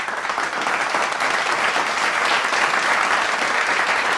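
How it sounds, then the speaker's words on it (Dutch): An audience at a student final show for a multimedia and creative technology program bursts into loud, dense, continuous applause, close and sustained throughout without any voices. "APPLAUS"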